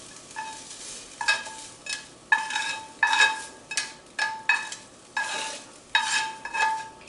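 Quiche vegetables sizzle in a lightly oiled pan while a spoon or spatula stirs them in repeated scraping strokes, close and rhythmic, with no one talking.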